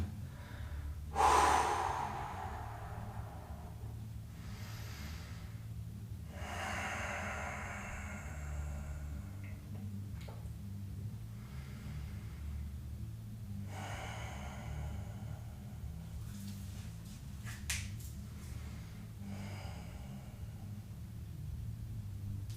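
Slow, deep breaths during a yoga hip stretch, a sharp inhale near the start followed by long, quiet exhales and inhales over a low steady background hum.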